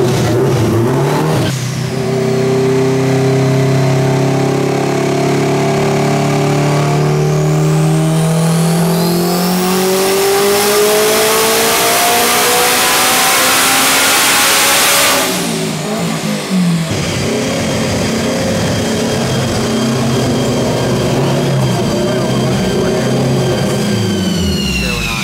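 Turbocharged car engine on a dyno pull with the rev limiter raised from 7,900 to 8,500, revving loud and continuous as its pitch sweeps steeply upward, cutting off sharply, then settling into a lower sustained run.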